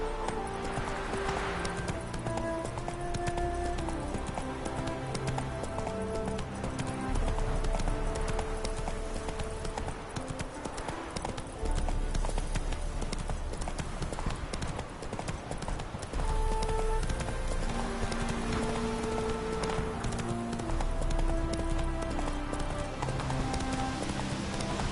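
Hoofbeats of a horse in The Witcher 3 video game clatter in a steady gallop over a continuous musical score, then slow and come to a halt before picking up again.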